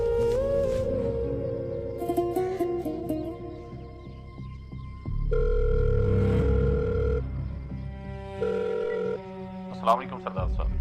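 A telephone rings after a number is dialed, with repeated tonal rings and dial tones heard over a film music score, and voices speaking around them.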